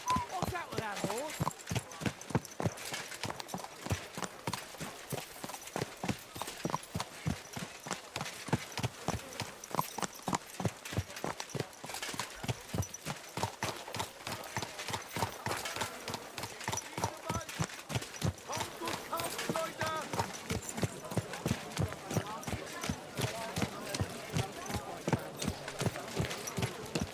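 Horse hooves clip-clop steadily in the medieval game Kingdom Come Deliverance II, a fast continuous rhythmic patter close by that runs throughout without letup.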